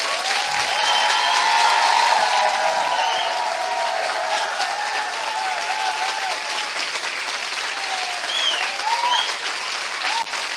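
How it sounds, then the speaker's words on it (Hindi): A church congregation at a Hindi-language Christian service gives a loud, sustained round of applause for God, a dense wash of clapping that fills about ten seconds and eases slightly toward the end. "क्या हम अपने महान परमेश्वर के लिए एक जोरदार ताली बजा"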